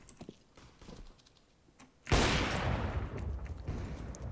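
Gunfire from the video game Counter-Strike on the Dust II map, with faint scattered game sounds and then a sudden loud burst of rapid shots that keeps going to the end.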